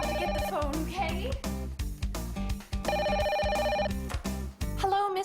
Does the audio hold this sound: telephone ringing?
yes